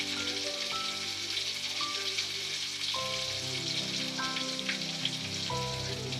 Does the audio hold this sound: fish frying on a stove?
yes